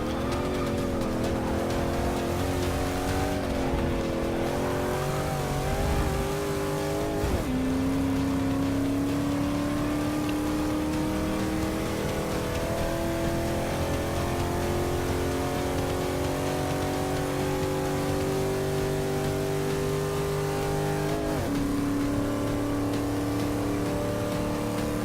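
A race car engine in Forza Motorsport 6 climbing through its gears at high speed, loud and sustained, each shift dropping the pitch before it winds up again toward top gear.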